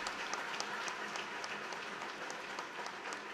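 A church congregation at a Mass celebrating a priest's installation claps together in a soft, steady patter heard from a distance, continuous for a few seconds.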